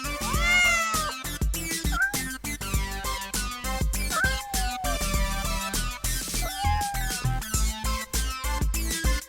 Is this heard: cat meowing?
yes